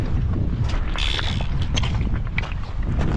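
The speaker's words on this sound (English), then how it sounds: "that wind's a bugger" Strong wind buffets the microphone beside the river Tay in Scotland while salmon fishing, producing a steady loud low rumble with gusty swells and some faint clatter, with no talk.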